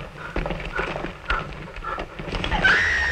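A horse being ridden: irregular hoof clops and rustling, ending in a loud whinny, heard in an old film scene without speech.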